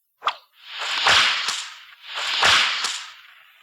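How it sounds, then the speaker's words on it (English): A bullwhip cracks sharply, then two more lashes follow, each a long rushing swish ending in a snapping crack. The three strikes are loud and close, with no voices, and they serve as a page-turn cue in an Indiana Jones and the Temple of Doom read-along. "You will know it is time to turn the page when you hear the bullwhip crack like this"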